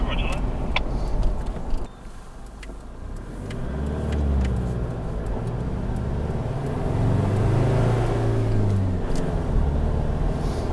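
A car turns off the road and drives onto a wet dirt track near Kinglake and Toolangi, its engine humming steadily with shifting pitch as it rolls, while people talk over it throughout.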